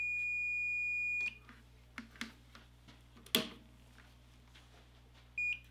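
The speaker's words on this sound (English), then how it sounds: "With the switch in the on position, a tone should be emitted if continuity exists." A continuity tester in a simple GFCI test circuit emits a steady electronic tone, which cuts off, leaving faint clicks and handling taps, then returns briefly at the end; quiet, close, no talking.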